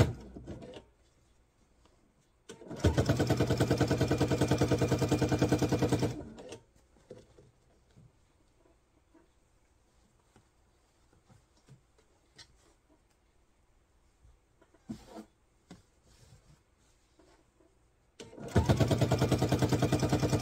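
A sewing machine stitches apron fabric in two loud whirring bursts of a few seconds each, separated by quiet stretches with small handling clicks.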